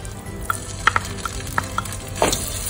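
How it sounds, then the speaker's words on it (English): Ground masala paste being stir-fried with fried garam masala over a low flame for a Bengali green banana kofta curry: a faint sizzle under scattered spoon taps and scrapes, a few sharper clinks spread irregularly. "To stir fry this masala again with this garam masalas for a few seconds"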